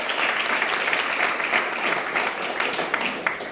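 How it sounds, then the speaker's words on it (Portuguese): A church congregation claps for the Lord Jesus during a sermon on the Via Crucis, with dense, sustained applause that holds steady for a few seconds. "Palmas para o Senhor Jesus."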